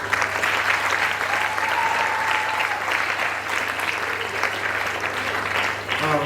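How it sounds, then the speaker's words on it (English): Loud, sustained applause from a sizable crowd fills the whole stretch, a dense even patter of clapping hands with no pauses. "Let's give a huge round of applause to Mr. Ian."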